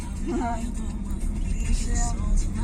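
A car drives by on a road, a steady close motor rumble rising slightly toward the end, with faint voices underneath.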